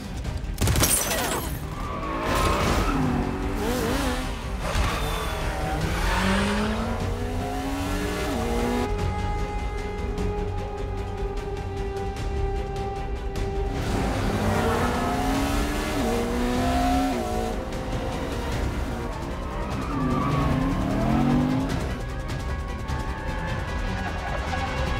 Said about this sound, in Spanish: Mi plan era escapar en coche.